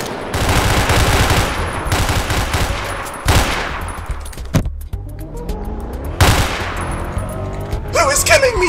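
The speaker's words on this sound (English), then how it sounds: "Was that me shooting my own gun?" Rapid bursts of gunfire from a gun in the Roblox game Liberty Stories, loud and close, dense automatic volleys with brief pauses and sharp single cracks, and no talking.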